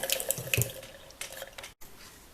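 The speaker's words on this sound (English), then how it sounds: "when you're rinsing your brush, just make sure you get the soap out like this" A paintbrush is rinsed under a running tap, water splashing and spattering against the bristles and sink in uneven bursts, close and fairly loud, with a brief cut near the end and no talking.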